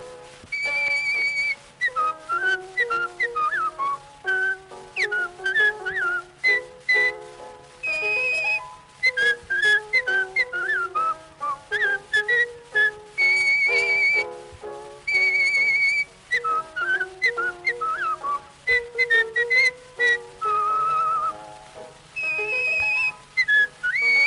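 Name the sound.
human whistling imitating a bird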